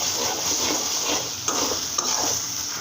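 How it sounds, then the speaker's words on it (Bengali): Onion-based masala for a fenugreek-leaf curry is stir-fried in a pan, a steady close sizzle with soft rhythmic stirring. A couple of sharp spatula clinks land against the pan near the end, with no talk. "এখন মশলাটা ভালো করে কষিয়ে নিয়েছি"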